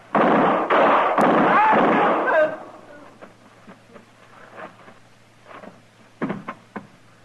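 Gunfire in an old-time radio western drama, Gunsmoke: a rapid cluster of loud, close shots fills the first two and a half seconds, followed by quieter scattered knocks and faint sounds.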